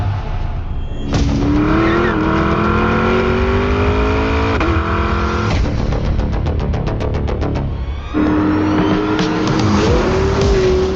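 A Corvette Grand Sport X accelerates hard with loud engine roar rising through gears, brief shift breaks and some tire noise, close and continuous for about eleven seconds with no talk.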